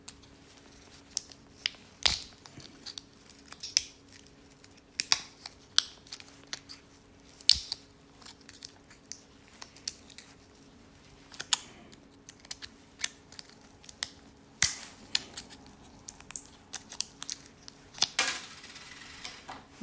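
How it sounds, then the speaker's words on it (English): A knife working open the plastic shell of an Acura RDX key fob makes scattered sharp clicks, snaps and small cracks at irregular intervals, close and fairly quiet, with a brief scraping burst near the end. "I need a knife to cut it"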